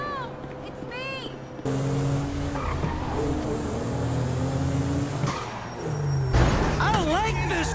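A car in a GTA 6 concept game drives with a steady engine drone and long squealing tire skids, loud and close, with game music or effects in the background.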